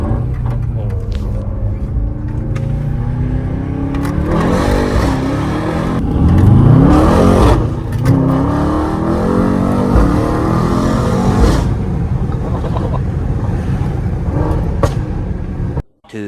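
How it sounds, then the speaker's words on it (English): A Mercedes-AMG GT63S in Sports Plus mode accelerates from inside the cabin, its engine note rising and surging through gear changes, loud and close, with an occasional voice over it. "It's the first time I'm riding in the GT63S. Let's go. So we have put it into Sports Plus."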